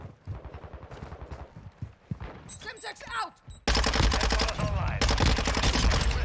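Gunfire in Modern Warfare 2: quick bursts under a voice at first, then loud, dense sustained automatic fire and explosions dominating the second half.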